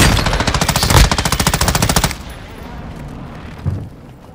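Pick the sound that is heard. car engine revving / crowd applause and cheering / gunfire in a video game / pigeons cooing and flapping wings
gunfire in a video game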